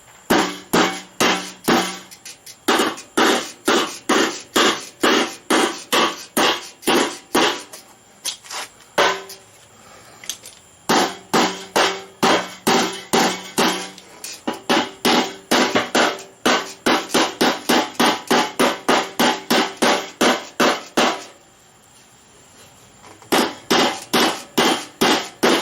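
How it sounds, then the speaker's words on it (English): Sheet metal on the gas tank of a rotten 1956 chop-top oval-window VW Beetle is hammered around its edges, rapid loud metallic blows in long bursts with brief pauses between runs. "do a little bit of hammering around the edges here to get that shape"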